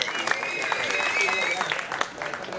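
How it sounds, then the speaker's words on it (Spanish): A crowd at a rap battle final applauds in a dense, steady wash of clapping with a few sharper claps poking through, while voices carry over it. "un fuerte aplauso por la escena y que está creciendo."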